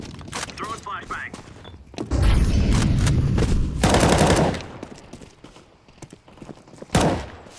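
Rapid gunfire bursts in a shooting video game with an explosive flashbang or grenade blast, loud and close, mixed with players' voices talking over the action.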